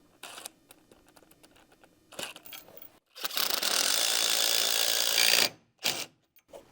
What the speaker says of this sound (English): using concrete screws to hold the base of the jack in place